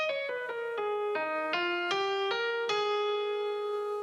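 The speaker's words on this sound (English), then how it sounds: "Melodic minor sounds like this." A melodic minor scale is played note by note on a sustained, tonal instrument, rising through about eight distinct pitches in a steady rhythm, the last note held, with no talking.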